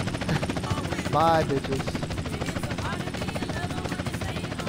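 A helicopter in GTA San Andreas gameplay keeps up a constant rapid rotor chop beneath a man's speech, with brief whooping game sounds over the top.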